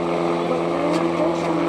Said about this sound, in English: This is a twin engine. There's another Beechcraft, I believe it is.